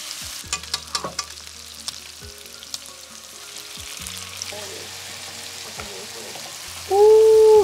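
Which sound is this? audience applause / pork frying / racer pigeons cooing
pork frying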